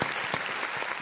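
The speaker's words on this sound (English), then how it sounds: "So I want to give a round of applause to those people" Brief burst of audience applause at a women-in-leadership community organizing event, close and dense with a few distinct claps standing out.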